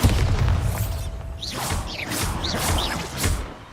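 A Bombarda blasting spell explodes in the video game Hogwarts Legacy, a deep booming burst with swooshing magic effects and a run of sharp whistling zips in a busy game soundscape.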